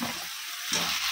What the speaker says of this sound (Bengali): এখন এই মাছের আলুটা কষিয়ে নেব।